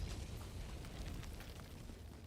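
A big cannon fires in the video game Helldivers II during a battle against the Terminids, a steady loud roar of booming, rumbling blasts with no clear pauses and no talk.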